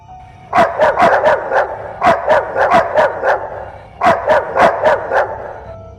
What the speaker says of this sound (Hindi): कई सारे कुत्तों की आवाज उसे करा देती है